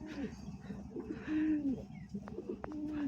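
Brown lakka pigeons coo close by in repeated soft, throaty rolling calls, with a few faint chirps and light background noise.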